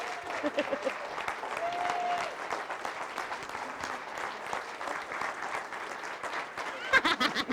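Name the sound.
audience applause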